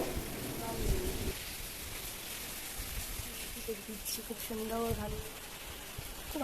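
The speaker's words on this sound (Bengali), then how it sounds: "এই যে একটু বৃষ্টি হচ্ছে একটু হাওয়া দিচ্ছে" Light rain and a breeze on a rooftop make a steady, soft hiss throughout, while a voice talks intermittently in the background.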